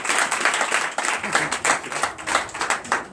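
A church congregation at a Sunday service claps rhythmically in an acclamation, a dense, pulsing burst of hands beating in quick repeated waves, fairly close and loud.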